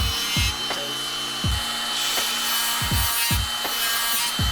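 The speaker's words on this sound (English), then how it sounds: "So I'm just gonna go straight into dremeling." A Dremel rotary tool grinds down a dog's nails, a steady gritty buzz broken by short repeated rasping strokes at an even rhythm, close and fairly loud.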